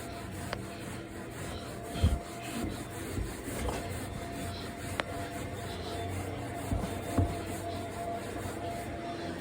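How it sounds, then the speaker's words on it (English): A microfiber pad scrubs at a red stain with faint, steady rubbing strokes, close but quiet, punctuated by a few soft thumps and clicks, with no talking. "So we're gonna go ahead and try to work this up. Using the microfiber pad"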